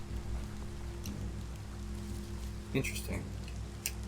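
Steady rain pattering in the video game Biomutant, a constant soft wash under a brief spoken word and a few sharper game clicks.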